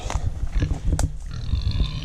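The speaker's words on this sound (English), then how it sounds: "There's a pig." A pig grunts near a backyard chicken coop, several low rough grunts in quick succession with a brief squeal, heard close over outdoor background noise and no talking.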